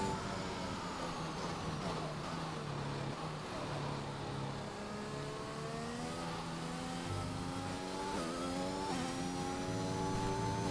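Onboard McLaren F1 car in a racing video game on a flying lap at the Brazilian Grand Prix, its engine droning steadily with rising and falling pitch sweeps through gear changes, loud and continuous throughout.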